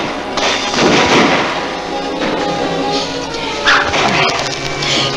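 Scattered gunshots and booming blasts from a western movie gunfight, heavy thuds and cracks over a dense, rumbling action soundtrack with no clear gaps.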